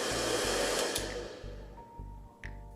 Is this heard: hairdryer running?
yes